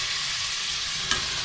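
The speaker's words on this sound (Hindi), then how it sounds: "देखें आपके सामने ऐड कर दी है भिंडी। इसको मैं थोड़ा सा मिक्स करके" Okra frying in ghee in a pan gives a steady, dense sizzle close by, with a single brief scrape of stirring near the end and no voices.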